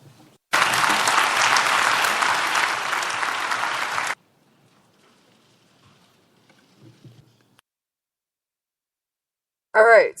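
Dense audience clapping at a UN General Assembly speech for about three and a half seconds, loud and sustained, then cutting off abruptly into near silence before a voice starts speaking.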